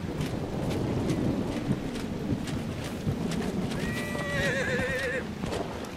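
In the video game Dragon Age: Inquisition, a horse whinnies with a shaky, drawn-out neigh over steady wind-like noise and clopping hoofbeats throughout.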